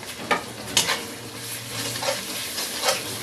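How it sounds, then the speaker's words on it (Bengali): Onions fry in a pan with turmeric, cumin, coriander and chilli powder for a Bengali mutton curry, giving a close, continuous sizzle with several bursts of spatula stirring and scraping and no voices. "পেঁয়াজটাকে একটু লাল লাল করে ভেজে নেব"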